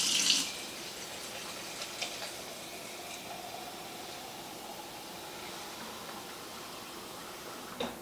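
Dried beans being rinsed in a small strainer under a running kitchen tap, a steady soft hiss of flowing water with faint splashes throughout, no talking.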